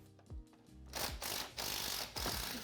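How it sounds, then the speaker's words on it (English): A 12mm socket ratchet removes the brake backing plate bolts on a Honda Foreman ATV, giving a few quick metallic clicking strokes close up, with short pauses between turns. "remove these 4 bolts using a 12mm socket"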